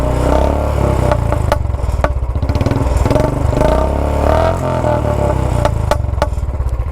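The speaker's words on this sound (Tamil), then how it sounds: "அப்படியே சைலன்சர் நோட்டு அப்படியே கேட்கலாம்." Royal Enfield Classic 350 BS4 fitted with a short modified Punjabi silencer, revved close by: a deep thumping idle broken by repeated throttle blips and sharp exhaust cracks and pops, loud and alone.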